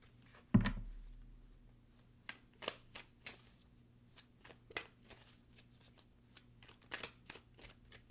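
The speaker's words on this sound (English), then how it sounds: "I close my eyes when I shuffle, so sometimes cards flip and I do not notice." Tarot cards shuffled close by in quick, papery riffles and bridges, a sharp thump at the start followed by repeated soft flicking bursts, no voices.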